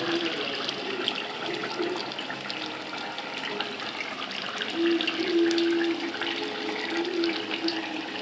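Water pouring into a pot of cooking curry, a steady close hiss and splash of running liquid that swells slightly partway through, with no talking.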